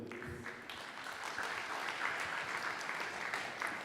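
An audience claps steadily, a dense wash of applause at moderate volume with no voices over it.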